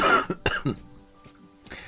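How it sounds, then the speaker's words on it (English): Two or three harsh, close coughs burst out in quick succession, followed by a quieter stretch with faint background tones before another rough throat sound rises at the end. "They're still struggling to believe that this cough is not something I'm making up."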